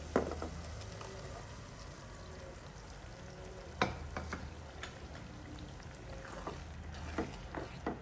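Tomato gravy goes into onions frying in a pan for sev usal, bringing a steady crackling sizzle with scattered sharp spatters and stirring scrapes throughout, close and continuous.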